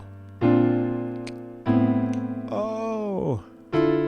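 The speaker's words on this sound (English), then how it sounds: "Now with this idea, in terms of this add 2, it will sound like this." Piano add 2 chords are struck one after another, each ringing out as a held block chord, with a short sung or hummed vocal sliding through the middle of the sequence.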